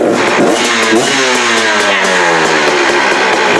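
A motorcycle engine revs hard through a newly installed exhaust pipe and silencer, loud and close, with its pitch climbing and holding steady throughout.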